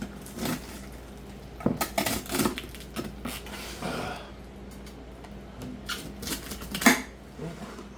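A knife scrapes and clinks against a metal pan while cutting through crispy-edged focaccia, with irregular close scraping strokes and sharp metallic taps, no talking.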